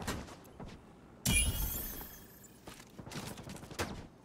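Gunfire in a video game hallway, a sudden loud burst of several rapid shots that rings out for about a second, followed by quieter scattered shots and background game noise.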